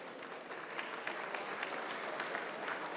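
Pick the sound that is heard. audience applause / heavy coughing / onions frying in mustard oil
audience applause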